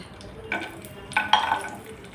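Raisins and cashews fry in a little hot oil, giving a soft background crackle broken by a few short scraping, stirring clinks against the pan near the middle and again toward the end.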